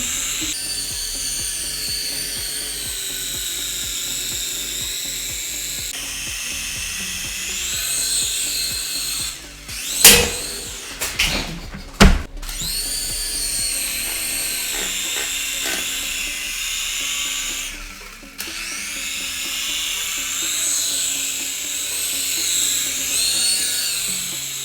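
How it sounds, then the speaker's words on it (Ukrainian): A toy helicopter's rotor spins while its small electric motor gives a loud, high-pitched whir that rises and falls in pitch, broken by a few short handling clatters around the middle. "А чого крутиться сам вертольот?"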